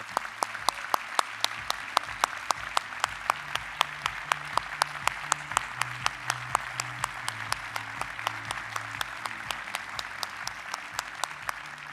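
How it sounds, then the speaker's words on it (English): Steady applause from a crowd, many hands clapping at an even pace for the full stretch, with a low murmur underneath. "Would you all join me in giving Amanda a great round of applause as our top 5?"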